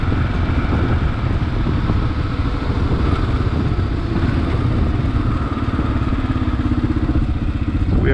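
A 2022 Kawasaki KLR 650 single-cylinder thumper being ridden, its engine giving a steady, dense drone with a rapid pulsing beat that holds constant under road and wind rumble.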